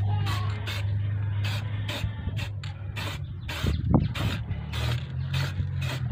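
Bosny spray paint can hissing in repeated short bursts as it coats car mag wheels on a Tamaraw FX, with faint mechanical rattles underneath and no talking.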